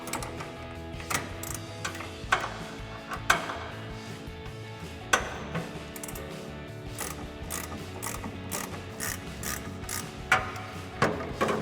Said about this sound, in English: we're going to grab our 18mm ratcheting wrench and a 9mm wrench to hold the center